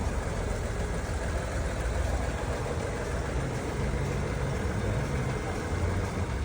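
A 1989 Range Rover Classic engine running, a dense, steady low rumble that stays close and constant throughout, with no gaps and no clear talking.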